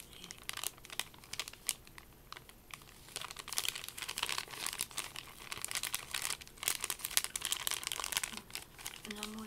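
A plastic packet of scented wet wipes being crinkled and handled up close in a quiet room, with irregular crackling and rustling bursts throughout and no speech.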